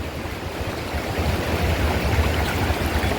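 The Bhadar river flows steadily in a village setting, a soft, continuous rushing wash of water with no voices.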